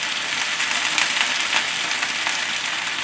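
Sake poured into a hot frying pan during a chicken and vegetable noodle stir-fry sizzles and hisses steadily at close range, a dense, even crackle that holds for about three seconds with no talking.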